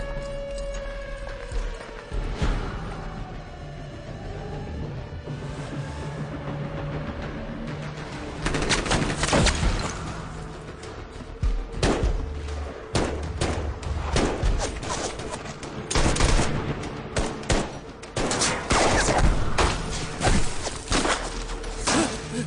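Bursts of gunfire crackle in rapid volleys over a rumbling, noisy battle backdrop in a Hindi-dubbed film, intensifying in the second half.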